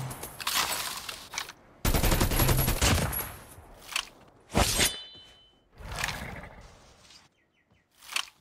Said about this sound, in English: There's someone shooting at me.